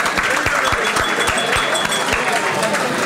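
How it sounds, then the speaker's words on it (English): Steady applause from a room of people, dense and continuous clapping throughout, with a few voices mixed in. "a little round of applause."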